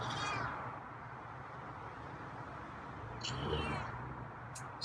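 A feral cat meows twice, a drawn-out meow at the start and another a few seconds later, close by against quiet room background.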